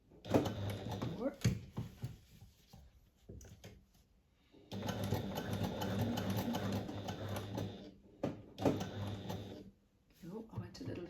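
A sewing machine stitches webbing in bursts of rapid mechanical chatter, with a long steady run in the middle and shorter runs around it, close up, while a person speaks in the pauses.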